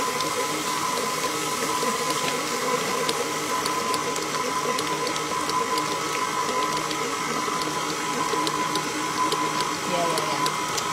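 An electric mixer whirs steadily through choux pastry dough as eggs are beaten in, a constant mechanical drone under scattered ticks and faint background noise.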